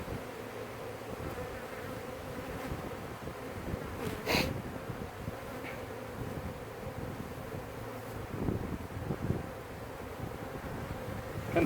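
Honeybees swarm around an opened, overcrowded hive during a split, a steady dense buzzing drone close to the microphone with a few louder passes and occasional knocks from handling the frames.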